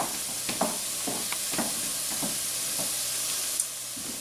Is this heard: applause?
no